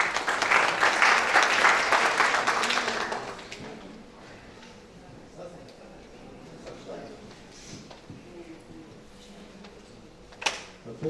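Loud applause from a conference panel audience fills the first few seconds, then fades into a quieter room with scattered small noises.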